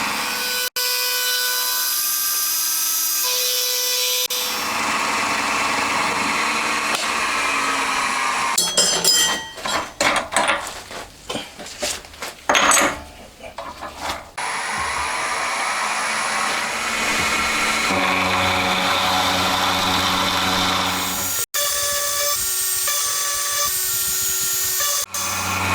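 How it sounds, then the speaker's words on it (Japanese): A lathe cutting down a part for a Honda Monkey engine, with a loud, continuous metallic whine and hum that runs throughout, broken by a rougher, choppier cutting stretch in the middle. "まずは上の部分を削って高さを合わせていきます。"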